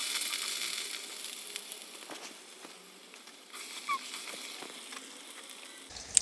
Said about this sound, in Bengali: কড়াইয়ে পরিমাণ মতো তেল দিয়ে দিয়েছি। এখন আমি আলুগুলো ছেড়ে দিচ্ছি।